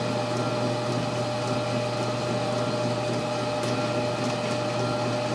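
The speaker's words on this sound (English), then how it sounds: "So let's get to cutting here and see what happens." A lathe turns and cuts a Craftsman drill press pulley (Dunlap 103.23622), a steady machine hum with a constant low drone and faint scraping, continuous and fairly close with no talking.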